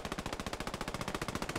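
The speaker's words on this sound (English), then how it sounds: "He gets sprayed by machine gun fire." Sustained automatic machine gun fire in Post Scriptum, a rapid, evenly spaced stream of loud close rounds running without a break.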